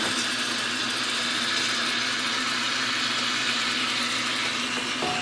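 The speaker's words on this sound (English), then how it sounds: "So you hear that sizzle, guys?" Curry goat sizzling in a hot pot, a continuous dense hissing crackle at steady moderate loudness with no talking.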